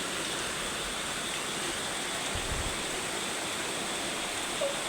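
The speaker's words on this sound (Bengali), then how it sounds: "আজকে এত বৃষ্টি, মানে ঘর থেকে বের হওয়া যাচ্ছে না, সারাদিনই বৃষ্টি" Heavy rain pours down steadily all day, a dense, unbroken hiss of water at constant loudness with no voices.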